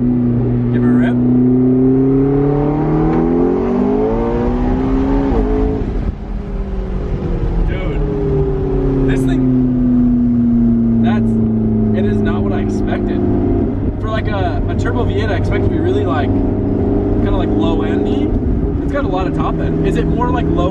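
A 700 hp twin-turbo V8 car revs hard and accelerates onto a highway, its loud engine note climbing through the gears in rising sweeps and a shift, heard from inside the car with people talking over it.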